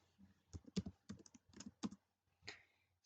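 Typing code on a computer keyboard: quick, close, irregular bursts of light key clicks, with short pauses between strokes and no talk.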